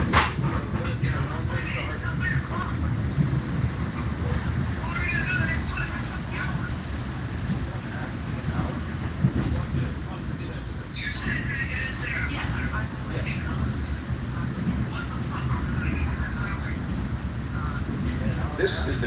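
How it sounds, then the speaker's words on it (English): Inside a moving train bound for New Haven, a low steady rumble and rattle of the carriage runs throughout, with muffled voices talking over it. "This is the train to New Haven."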